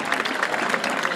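A brief burst of crowd applause at a rodeo in Tlaltizapán, Morelos, with dense, steady clapping from many hands heard fairly close.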